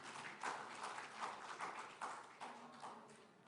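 An audience at a science and technology forum's founding ceremony in Korea claps to welcome a special lecture speaker. The applause is faint and distant, with a soft, continuous patter of many hands lasting a few seconds.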